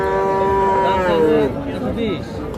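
At Hazratpur cattle market, cross-breed calves and cattle give a drawn-out moo followed by a shorter one, close by over a murmur of crowd chatter.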